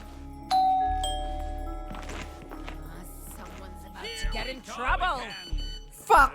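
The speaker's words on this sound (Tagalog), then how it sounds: "Doorbell muna sa control panel." A two-note electronic doorbell chime rings in the Schoolboy Runaway video game, followed by a second tone and steady background game hum, with a person talking over the later part.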